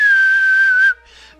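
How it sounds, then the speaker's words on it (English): Grass Whistle attack sound effect from a 5th-generation Pokémon battle: a single loud, clean synthetic whistle tone holds steady for nearly a second, then cuts off into a brief fainter trailing shimmer. "goes straight for the Grass Whistle"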